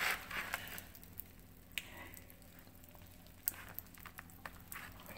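Popping candy mixed into shaving cream with fluorescent and acrylic paint gives off faint scattered crackles and tiny pops, irregular and quiet against a low background hiss.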